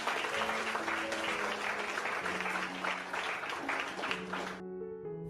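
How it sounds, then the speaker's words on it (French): Audience applause at an official civil wedding ceremony: a dense, steady wash of many hands clapping with music and some voices underneath, cutting off abruptly near the end as a few musical tones continue. "Applaudissez la dame, s'il vous plaît."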